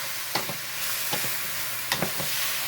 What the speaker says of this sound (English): And we're going to add in our mushrooms.